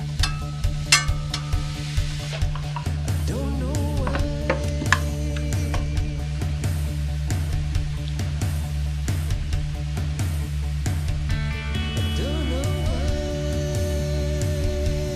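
Pizza toppings sautéing in a pan with a little oil, giving a steady low sizzle broken by frequent clicks and scrapes of stirring, close up, with no talk.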